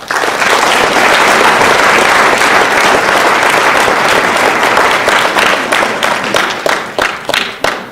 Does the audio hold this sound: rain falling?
no